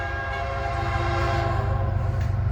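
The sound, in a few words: Union Pacific train passing a crossing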